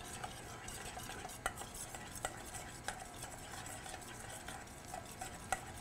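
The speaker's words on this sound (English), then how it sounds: "Stir that up." Cake batter for a green velvet cake being stirred after baking cocoa and green food coloring go in, a steady soft scraping with a few sharper clicks of the utensil against the bowl, close and alone.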